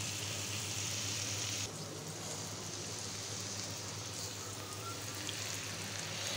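Sliced bitter gourd fries in a pan with a steady, dense sizzle that holds at an even level throughout, up close and without talk.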